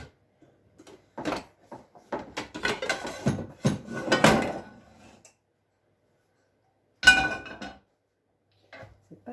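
Frying pans are handled and clinked together in a home kitchen while cheesy bread is being made. Several close metallic clanks come in a quick irregular cluster, then a single louder clank after a pause, with near silence between.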